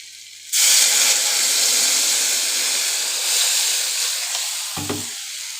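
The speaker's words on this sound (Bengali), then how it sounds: "এইবার জল ঢেলে দেবো, জল দিয়ে দেবো" Water poured into a hot pan of fried potatoes and onions bursts into a loud, sudden sizzle that settles into a steady hiss of steam, with a brief clink near the end.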